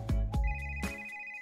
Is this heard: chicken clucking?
no